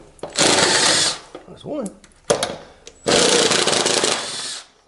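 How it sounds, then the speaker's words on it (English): A small quarter-inch impact wrench hammers loose the spindle bolts on a zero-turn mower deck in two loud, sustained bursts, with brief talk in between. "let's see if the little quarter impact over there will get it"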